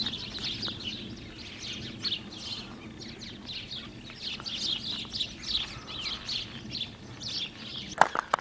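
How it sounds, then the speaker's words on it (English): Birds sing and chirp outdoors on a homestead, a steady stream of bright overlapping calls at moderate distance with no talking, ending in a sharp knock or clatter. "I hear the birds"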